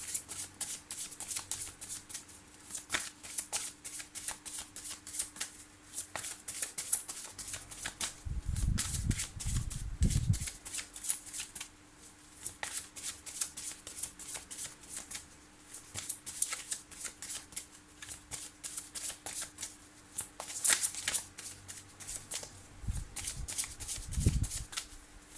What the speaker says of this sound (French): Alors Bridget, je vais me concentrer sur votre question pendant que je prépare votre tirage.